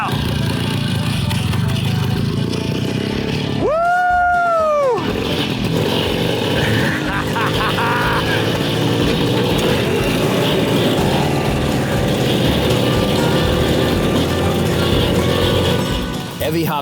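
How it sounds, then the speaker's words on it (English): A 1961 Harley barn-find motorcycle being ridden, its engine running steadily and close by for the whole stretch, with a brief high whine rising and falling near the start. "Evie hopped on that 1961 Harley and rode it like a pro."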